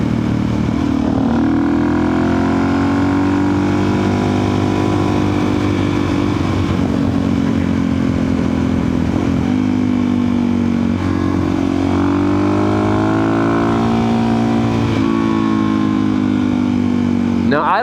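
A Suzuki DRZ 400 supermoto motorcycle engine drones loud and close while being ridden, its pitch rising and falling with throttle changes. A rider's voice talks over it at times.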